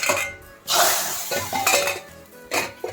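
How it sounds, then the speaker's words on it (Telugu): Metal pot lid clattering onto a pot of rasam just after the tempering goes in, off the stove in a home kitchen; two or three loud clanks and scrapes, close by, with no talking. "స్టవ్ ఆఫ్ చేసుకొని తాలింపు వేసుకొని వెంబడే మూత పెట్టేసుకుందాం"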